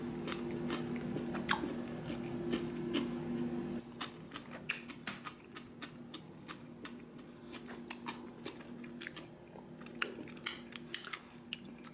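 Eggplant and vegetable tempura are bitten and chewed up close, with crisp, crunchy snaps and repeated chewing clicks over a faint steady hum that stops partway through.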